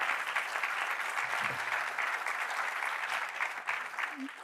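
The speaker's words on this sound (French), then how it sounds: "on va les applaudir" Sustained audience applause filling the room, a dense, even wash of many hands clapping that holds steady throughout and eases slightly near the end.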